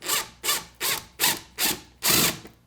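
A screw being driven into a wall by hand to probe for a stud during a coat rack install, six evenly spaced grinding, rasping turns in a steady rhythm, close and clear, with no talking.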